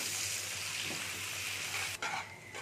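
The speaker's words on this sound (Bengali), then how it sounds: "দিয়ে এবার এটাকে আমি একটু ভেজে নেবো, একটু হালকা লাল করে ভেজে নেবো আমি।" Onions and green chillies fry in a pan for an egg dish, giving a steady, close, bright sizzle throughout, with a brief stirring scrape near the end.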